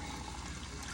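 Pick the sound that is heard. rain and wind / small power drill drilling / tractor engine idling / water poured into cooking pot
water poured into cooking pot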